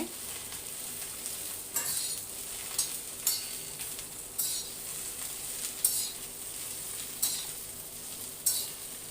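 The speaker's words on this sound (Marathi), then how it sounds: "दहा मिनटं तरी आपण ही भेंडी चांगली भाजून घ्यायची" Okra dry-roasted in a pan without oil, stirred with a utensil: a steady dry sizzle with regular scraping strokes about every second or so, close and clear.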